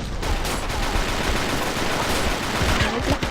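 Continuous rapid gunfire in the BeGone online shooter game, with dense bursts of shots and impacts filling the scene at steady loudness, no talking.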